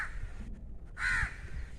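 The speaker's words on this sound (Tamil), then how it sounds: "இங்கே பாருங்கள், காக்கா சண்டை போடுது, உங்களுக்கு தெரியுதா?" A crow in a squabble lets out a single loud, harsh caw near the middle of the moment, set against faint outdoor background noise.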